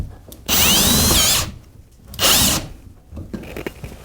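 A power drill driving screws into wood while mounting something, with two loud whirring bursts of the motor separated by a short pause and followed by quieter handling noises nearby.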